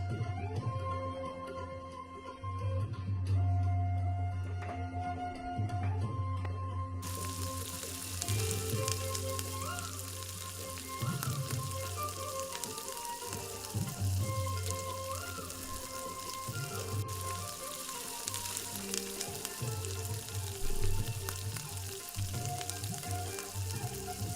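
Coated fresh seafood frying in a pan, a steady close sizzle and crackle that runs throughout, with tonal music playing underneath.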